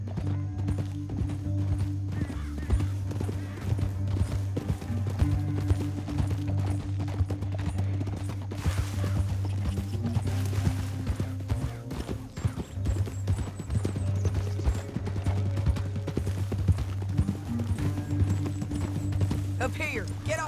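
Horse hooves clip-clop in a rhythmic run through a canyon in the video game Red Dead Redemption 2, steady and close over a low droning musical score, with characters talking intermittently.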